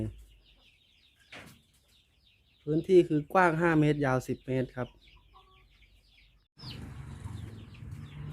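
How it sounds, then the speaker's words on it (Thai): Chickens, three roosters and ten hens, cluck and call in a simple homemade coop while someone talks nearby. "ส่วนนี้คือไก่ที่เริ่มเพาะเลี้ยงนะครับ"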